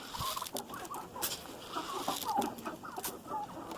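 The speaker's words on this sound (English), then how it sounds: "I'll take care of these hens first. I'll throw a little bit of this Milo on the ground." Homestead hens cluck and murmur while pecking at milo grain scattered on the ground, several birds close by in soft overlapping calls with light scratching, with no voices.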